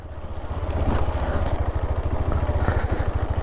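A motorcycle descending a rough mountain road in Himachal toward Dodra Kwar, its engine thumping in a fast steady pulse that swells and stays loud and close, with faint rattling, no speech.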